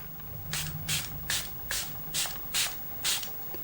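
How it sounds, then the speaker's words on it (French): A cosmetic facial mist is sprayed in seven short, even bursts about half a second apart, each a soft, airy hiss close to the ear, with quiet pauses between. "Et le spray est délicat"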